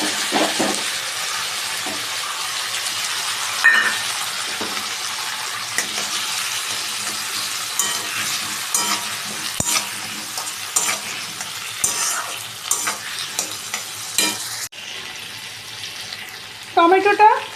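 Tomato paste sizzles and fries in a pan while a utensil stirs it, a steady bright crackle with repeated scraping and clinking, joined near the end by running water.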